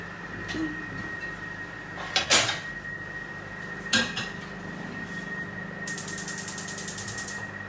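Pans being readied in a home kitchen for making crepes on a non-stick tawa, with a few sharp metallic clanks and knocks over a steady background hum, then a rapid high rattle at the end.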